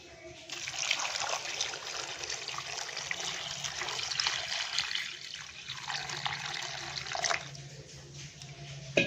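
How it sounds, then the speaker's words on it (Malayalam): Water pours steadily into a pot for boiling tapioca for several seconds with a rushing, splashing sound, then stops. "ഇതിലേക്ക് നമുക്ക് കുറച്ച് വെള്ളം ഒഴിച്ചു കൊടുക്കാം"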